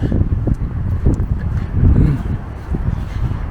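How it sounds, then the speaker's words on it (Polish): Strong, cold, gusty wind roars and buffets the microphone in uneven gusts at a cemetery chapel in Wlewsk, Poland, a continuous heavy rumble with surging peaks. "Bardzo zimno i bardzo silny, porwisty wiatr wieje."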